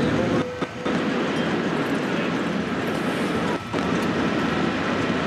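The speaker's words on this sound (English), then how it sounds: "It's now time to cut the power to the traction motors and the train will slow down gradually." A loud, steady rushing roar of a TGV high-speed train in motion with traction power cut, slowing gradually, with brief dips and faint rail clatter, no voices.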